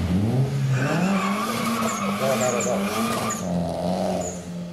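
A roughly 300-horsepower car on a test drive skids through a long run of tire squeal and engine noise, the screech wavering in pitch throughout and heard close and loud.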